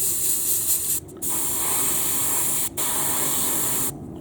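Loud, close hiss of an airbrush spraying Vallejo Metal Color copper acrylic paint in three sustained bursts separated by brief pauses.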